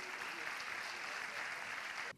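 Steady applause from a concert audience at a Turkish classical music orchestra performance, a dense patter of clapping that holds evenly and then cuts off abruptly near the end.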